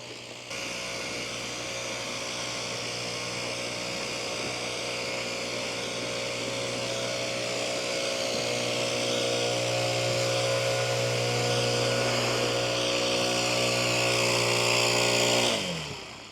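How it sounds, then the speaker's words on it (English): A snow blower engine runs steadily and loudly at close range, a constant droning roar with a buzzing whine that holds for the whole stretch, then cuts off abruptly at the end. "looks like Jeff has a snow blower going."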